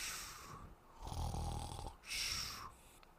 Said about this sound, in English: Soon, the cave reverberated with his snores.